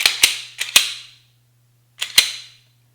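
A Glock pistol slide goes back onto the frame during reassembly: a handful of sharp metallic clicks and clacks in two quick clusters, close and crisp, with a short silent gap between them.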